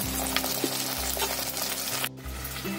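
Onions sauté in a hot pan in a home kitchen, giving a steady, close sizzle that continues throughout with no talking.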